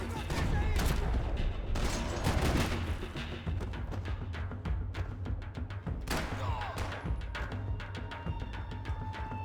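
Heavy, sustained gunfire in the video game Max Payne 3: dense, overlapping bursts of shots and booming impacts, loud and continuous throughout with no pauses.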